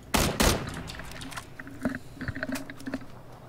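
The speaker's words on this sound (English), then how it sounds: "Oh no, I was just shooting" Video-game gunfire in a shooter: two loud close bursts at the start, then a scatter of quieter, more distant shots and clicks, no talking.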